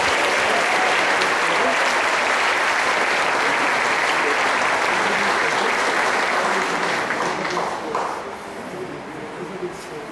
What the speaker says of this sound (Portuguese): Que a igreja possa aplaudir dando glória a Jesus.